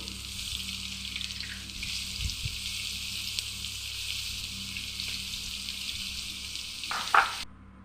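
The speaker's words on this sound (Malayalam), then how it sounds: "അതിലേക്ക് ഇഞ്ചി, പച്ചമുളക്, സവാള കുത്തിയിരുന്നത്, കറിവേപ്പില എണ്ണയിട്ട്" Ginger, green chilli, onion and curry leaves sautéing in hot oil for upma, a steady close sizzle running throughout, with a brief utensil clatter near the end before it cuts off.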